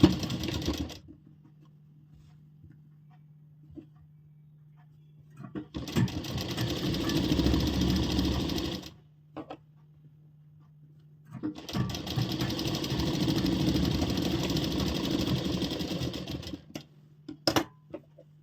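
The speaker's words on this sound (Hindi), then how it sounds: "यहाँ से सिलाई शुरू करेंगे" An electric sewing machine stitches the crotch seam of a ladies' salwar in two long, loud, fast runs, with a low motor hum idling between them and a brief final burst near the end.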